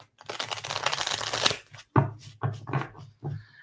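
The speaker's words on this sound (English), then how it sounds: "So I'm just shuffling my new decks so I can do a little reading here." Small tarot and fortune card decks being shuffled by hand, a dense continuous riffle of card flutter followed by several shorter bursts of shuffling, close and fairly loud.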